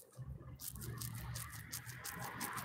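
A Clinger foam holster squeezed by hand up close gives a series of crisp, crunching crackles that repeat in a fairly steady rhythm over a quiet background.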